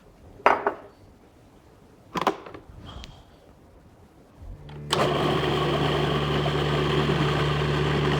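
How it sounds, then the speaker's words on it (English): A food processor grinds chickpeas with ground cumin, oregano and olive oil into falafel batter, starting suddenly as a loud, steady whirring drone after a few quiet clicks and knocks. "I just like to hear the sound of chickpeas being ground into delicious falafel batter"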